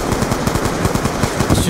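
Sustained automatic gunfire from the shooter game Call of Duty Black Ops 2 during an escort mission, a steady rapid rattle of shots throughout with a dense battle din behind it.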